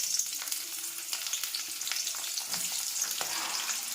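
Onion fries in a pan with dried chilli, cumin and bay leaf, giving a steady crackling sizzle with occasional scraping stirs, close and fairly quiet, with no talking.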